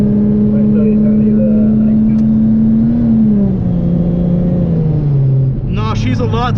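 Supercharged 3.7-litre Mustang engine droning steadily and loudly, its pitch sagging slowly before a sharper rev climbs at the end, with people talking over it.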